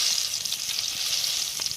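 Chilli bajji frying in hot oil while camping in a jungle, giving a continuous bright hiss and crackle of sizzling batter, close and steady, with a few sharper pops and no talking.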